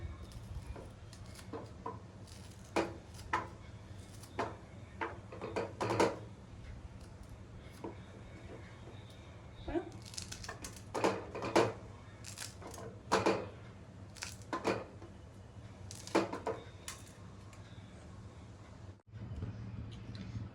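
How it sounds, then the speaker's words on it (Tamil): A knife chops pounded ginger and chillies into small pieces for red kavuni rice pongal, giving irregular soft taps and clicks on a cutting surface over a low background hum, with no speech. "இதை நம்ம குட்டி குட்டியாக வெட்டிக்கிடலாம்."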